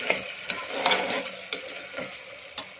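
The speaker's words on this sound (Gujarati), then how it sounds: "પહેલાં તો આપણે મેથીને ટામેટાની સાથે સારી રીતે મિક્સ કરી દઈશું." Fenugreek leaves being stirred with tomatoes in a pan for a traditional Gujarati sabji, with several spoon scrapes and knocks at an uneven pace over a soft, steady cooking hiss, heard up close with no talk.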